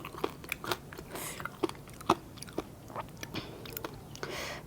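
Crispy fried pork tail crunched in repeated bites, a string of sharp, close crunches and chewing spread unevenly over several seconds with no talk.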